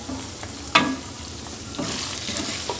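Spices with salt and crushed and ground red chilli fry in a pot for Masala Malai Chicken Handi, a steady low sizzle with one sharp stirring clank near the start and soft scraping later.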